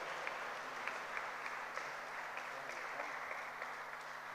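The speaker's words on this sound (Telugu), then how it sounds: "కరతాళ ధ్వనులతో మరొకసారి గట్టిగా చప్పట్లు కొడుతూ ధన్యవాదాలు" A church congregation at Holy Mass claps steadily in thanks to the priest, a faint, even patter of many hands sustained throughout, with no voices.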